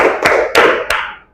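A class claps hands in a counted rhythm, three loud, sharp group claps spaced evenly, each followed by a short ringing decay in a room.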